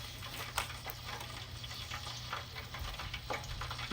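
Dense, steady sizzle of hot oil heating for deep frying a turkey, a continuous crackling hiss with occasional louder pops, close and alone without voices.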